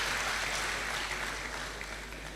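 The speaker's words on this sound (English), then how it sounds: "The host dean, Professor Constantine Yuka, I think we should give him a very standing applause." Faint, steady applause from an audience at an academic lecture event, a continuous wash of clapping that slowly fades over a couple of seconds, with no voices over it.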